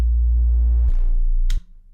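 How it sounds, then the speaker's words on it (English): A synthesized tone steps abruptly from one sustained low note to a second note with no pitch bend between them, heard alone and loud, then cut off with a brief click. "here is this transition without a pitch bend between note 1 and note 2"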